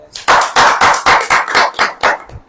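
A church congregation claps in unison, loud sharp beats landing in a steady rhythm of about three per second, close and forceful with nothing else heard between the claps.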